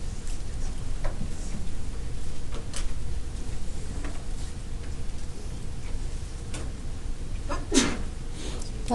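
A student in a classroom lets out a sneeze, a single brief burst near the end over a steady background hum of the room with faint ticks and small noises, no talking.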